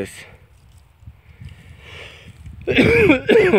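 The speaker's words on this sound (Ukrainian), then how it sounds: "попав під дощ, кашляю" A few harsh coughs from a man with a cold burst out near the end, loud and close, after a stretch of quiet background murmur.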